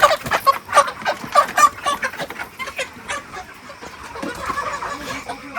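Farm chickens on a village poultry farm, caught by hand and loaded into crates, cluck and squawk in loud, close, overlapping bursts that give way to a lower, busier background of birds and handling noise.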